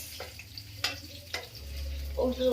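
Food frying in a pan is stirred and turned, with a few scraping clicks over a low sizzle and a brief burst of louder frying toward the end.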